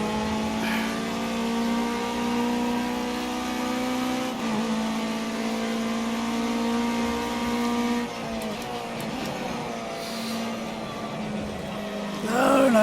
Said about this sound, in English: I can hear a car catching up behind us.